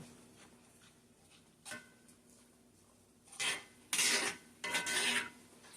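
Metal utensil scraping and stirring flour into a sauce in a pan for a pesto Parmesan shrimp Alfredo, heard as a few separate close rasping strokes in quick succession against a quiet background.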